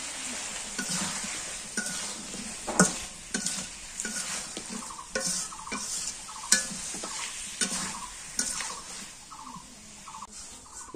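Fish and kaita fry together in a pan, a steady close sizzle broken by repeated scraping and tapping strokes of a spatula as they are stirred, with no talking.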